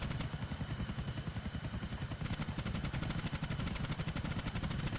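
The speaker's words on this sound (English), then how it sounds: "The fun about the helicopter, you can destroy loads of stuff." A helicopter in the video game GTA IV, a loud, steady rhythmic rotor chop with a whining engine drone that continues without a break and with no talking.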